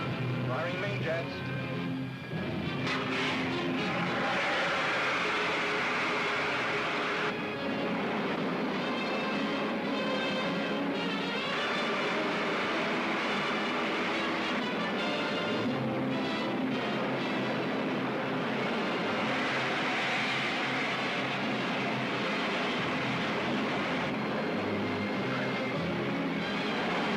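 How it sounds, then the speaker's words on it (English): Rocket ship main jets firing in a 1950s sci-fi serial, a loud, sustained roaring rumble that fills the whole stretch, steady and close with rough surging texture throughout. "Firing main jets."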